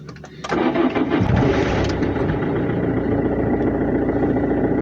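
A Citroën C3's engine cranks briefly, catches, and settles into a loud, steady running drone close by, with no voices over it.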